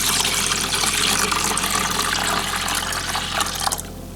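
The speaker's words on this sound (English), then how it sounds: "Add a bit of water." Water poured into a bondcrete mix, roughly three parts water, for a fake rock pathway: a steady, close rushing pour that runs continuously and thins out near the end.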